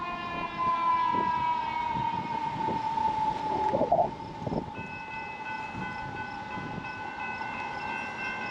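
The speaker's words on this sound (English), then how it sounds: "And there's our freight train." A freight train in Downers Grove rumbles past with steady clattering and rolling noise, a horn tone sounding over it, fairly loud and continuous.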